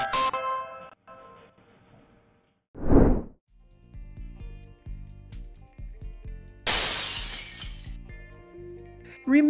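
Glass shatters loudly during transport, a sharp burst of breaking and scattering shards near the end, with an earlier whoosh and background music and voices around it.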